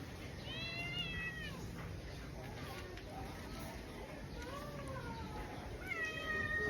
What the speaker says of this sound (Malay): tengok dekat sini ada beribu kucing dengan saya.